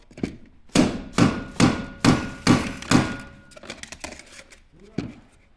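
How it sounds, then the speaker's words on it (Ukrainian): A hammer strikes an office chair's multiblock mechanism to drive out the gas lift: six loud, evenly spaced metallic blows, then a string of lighter knocks and one final tap, close up. "бити молотком і вибивати газліфт вже з мультиблоку"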